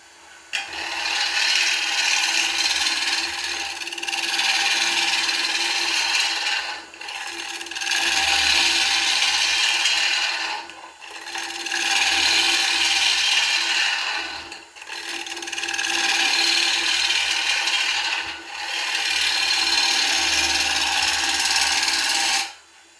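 Bowl gouge cutting the face of a spinning oak bowl on a wood lathe, a steady loud scraping rasp in four long passes, each broken by a brief pause, with no talking.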